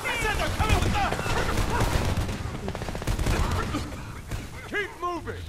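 Video game gunfire in Homefront sounds inside a house's living room, dense bursts of rapid shots crackling across the scene, while voices talk and shout over the shooting.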